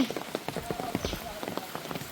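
Rain patters on surfaces during flooding of village gardens and paddy fields, a brief soft drumming of drops mixed with wind, heard under a person talking.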